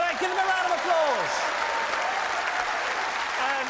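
A studio audience at a live paranormal broadcast in Manchester applauds steadily, the clapping sustained and dense while voices talk over it.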